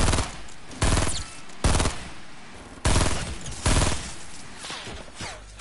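Gunfire in Fortnite Battle Royale, four or five loud bursts of rapid shots, each cut off sharply, separated by quieter gaps and fading toward the end.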